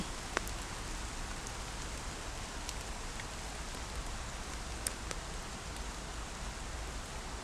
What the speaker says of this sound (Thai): เมื่อนี้ฝนตกจ้ะทุกคน